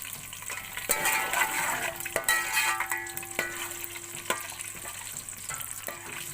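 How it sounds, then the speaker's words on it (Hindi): Onions and rice ingredients sizzle and fry in a pan for simple pulao, with steady crackling, occasional clinks of a utensil against the pot and stirring scrapes, close and alone without talk. "अब इसको थोड़ी देर फ्राई कर लेंगे।"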